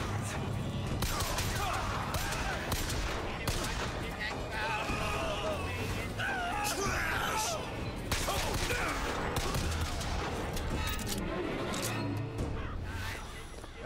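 Gunfire from the first-person shooter BioShock Infinite, with repeated sharp shots and bursts mixed among game music and ambient effects, steady and dense throughout the stretch.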